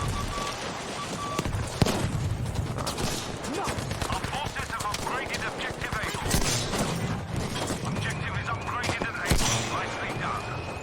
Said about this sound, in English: that guy just got shot in the face